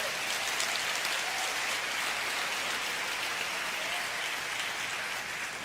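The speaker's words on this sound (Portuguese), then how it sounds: "Pode dar uma salva de palmas ao Senhor." Church congregation gives a long round of applause, a steady, dense hiss of many hands clapping at a moderate distance, unbroken throughout with no speech.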